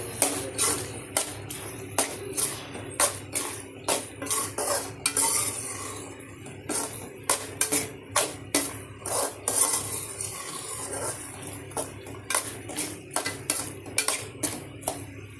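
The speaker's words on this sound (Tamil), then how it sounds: "நல்லா கிரேவி நல்லா கொச்சி வந்த பிறகு பட்டாணி சேர்த்துக்கோங்க நல்லா மிக்ஸ் பண்ணி" Pav bhaji gravy with peas being stirred in a pan, a spoon scraping and clinking against the metal in a steady repeated rhythm, with a soft sizzle underneath.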